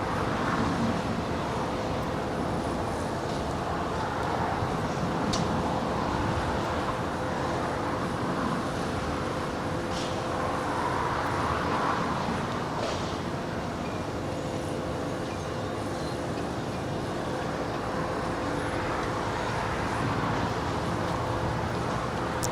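A Boeing 747-400 airliner lands at Los Angeles International Airport, a broad, steady roar of engine and wind noise that holds evenly throughout, with faint rumble underneath.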